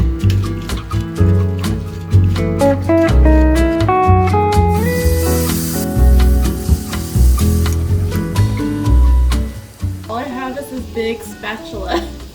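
Food fries in olive oil in a pan at home, a steady loud sizzle running beneath prominent background music throughout.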